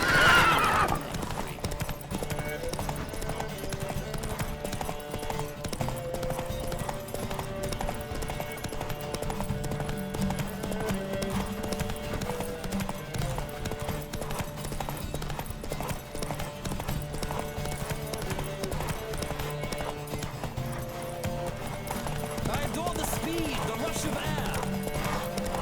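Racing horses gallop with steady clip-clop hoofbeats and occasional whinnies in The Witcher 3, running beneath a constant bed of game music and ambience throughout, moderately loud and unbroken.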